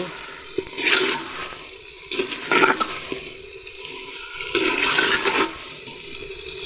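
Water is poured into a clay pot of cooking chicken, a gushing splashing rush in a few surges, close and fairly loud, with a person talking quietly underneath.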